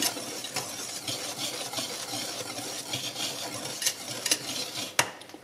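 A metal whisk mixes gluten-free pancake batter made with baking soda in a bowl, a steady close scraping and swishing with a light rhythmic tap, continuing without pause and with no voices.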